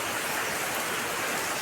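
Heavy rain pours down in a steady, dense hiss that holds evenly throughout, with no voices over it.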